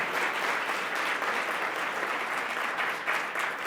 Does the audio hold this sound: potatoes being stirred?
no